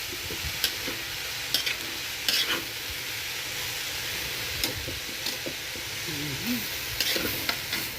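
Food stirred in a frying pan over the heat makes a continuous sizzle, broken by intermittent scraping strokes of a utensil against the metal, close and steady with no talk.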